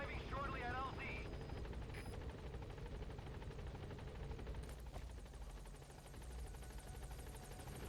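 A support helicopter arriving at the landing zone in Metal Gear Solid V: a steady rotor drone that stays constant throughout, mixed with a brief warbling radio-like chirp near the start and a sharp bang around the middle.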